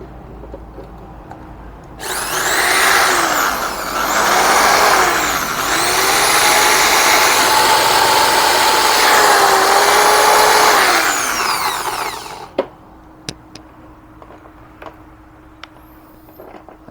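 A 650-watt electric drill spins up for about ten seconds with a loud whining motor whose pitch dips and rises as it revs, then cuts off, leaving faint clicks and handling noises.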